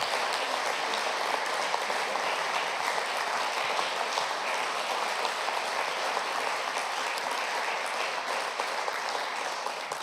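Sustained audience applause at a Slovenian study-days forum discussion, steady dense clapping filling the room for about ten seconds with no voices over it.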